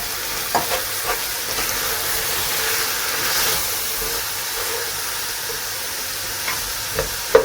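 Red onion frying in a pan, a steady close sizzle broken by a few sharp clicks and scrapes of stirring, with no voices.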